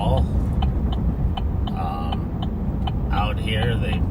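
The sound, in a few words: car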